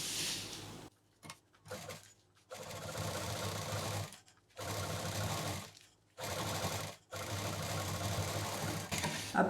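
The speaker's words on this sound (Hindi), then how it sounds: "तो चलिए इसको भी यहाँ पे सिल देते हैं" A sewing machine stitches lace onto a party purse in several bursts of fast, rattling whirring, separated by short silent pauses, close and clear.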